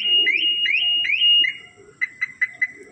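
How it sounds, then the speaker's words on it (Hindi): A Maruti Suzuki car's anti-theft alarm blares loudly and close by, giving a repeating two-tone warble that rises and falls over and over, then changes to a series of sharp separate chirps. "अब मेरा इसका ये दिखाने का मतलब था जैसे अब ये गाड़ी बजने लग गई थी एकदम ही"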